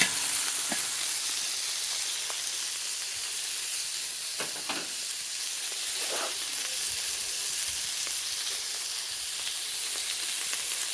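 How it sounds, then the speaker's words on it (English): Chicken pieces brown in light olive oil in a hot pan, making a steady, even sizzle and hiss throughout with a few faint stirring scrapes, no talking. "And it's cooking in light olive oil, the kind that you can burn high temperature"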